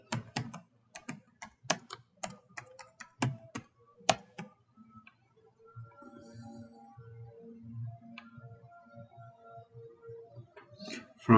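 Someone types a policy name on a computer keyboard, and the sharp, irregular keystrokes come close together at first. Softer clicks and faint mouse or desk sounds follow more sparsely.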